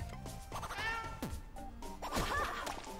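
Cats meowing in an Adventure Time video game, with several short meows and caterwauls over game sounds and a couple of sharp hits.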